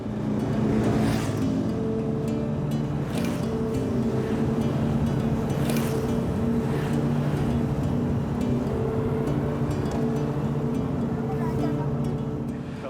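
Motorbikes riding through chaotic Vietnamese street traffic produce a steady, close engine drone with rising revs and passing vehicles. The dense, continuous roar carries a few sharp horn-like peaks.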